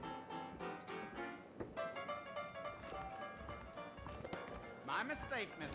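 Horse hooves clip-clop in Red Dead Redemption, a steady rhythmic trot under music and talking voices, fairly close and moderately loud throughout.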